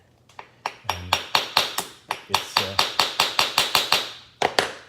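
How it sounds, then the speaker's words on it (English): A heavy hammer taps a scraper wedged into a laminate wood floor, about fifteen sharp, evenly spaced close blows in a steady rhythm, with a brief word spoken at the start. "I tapped it with my giant hammer here"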